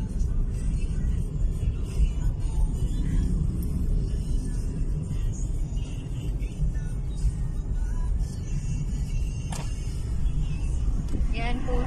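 Traffic on a highway beside a residential subdivision in Naic, Cavite makes a continuous low rumble of passing cars, buses and trucks, with an occasional brief air-brake hiss, heard from nearby at moderate level.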